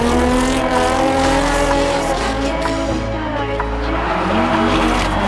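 A turbocharged Nissan 240SX drifting around a track at an open drift event, its engine droning loud and close with a steady rough roar and a hint of tire squeal, a voice faintly audible underneath.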